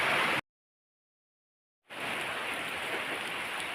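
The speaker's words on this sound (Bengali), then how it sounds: "দেখো এইদিকে কি বৃষ্টি চলছে।" Rain falls outdoors near paddy fields in a steady, even hiss that drops out into silence for about a second and a half, then resumes just as dense.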